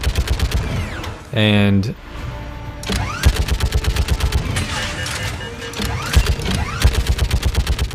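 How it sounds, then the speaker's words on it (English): Heavy gun firing in Mass Effect 3, rapid loud bursts of repeated shots with a brief mechanical whine between volleys, someone talking over the gunfire. "I like the feeling of power this sort of gun gives you. It's got like nice recoil,"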